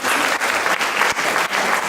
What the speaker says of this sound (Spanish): un fuerte aplauso a cada uno de ustedes por haber venido